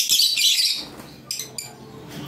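Bright, high chirps and tweets from Cremino Opaline pet birds crowd the opening, then thin out into a few scattered calls over a soft background.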